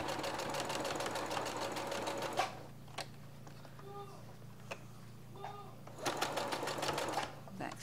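A domestic sewing machine back stitches fabric in fast, even whirring runs, with a long burst, a pause filled by a few clicks and light knocks, then another burst. A voice speaks quietly beneath it.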